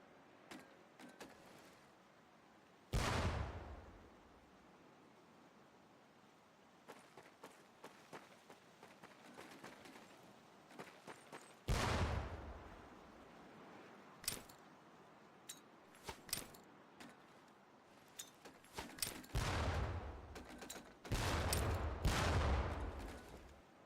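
Training grenades in Medal of Honor Pacific Assault burst against barrels in a row of loud, sharp blasts with rumbling tails, spaced out over a low background hum.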